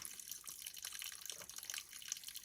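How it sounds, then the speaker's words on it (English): A strong, cold spring flows beside the Appalachian Trail, giving a steady bright splashing and trickling that runs continuously and close by without any voices. "Very easy to access. Strong flow."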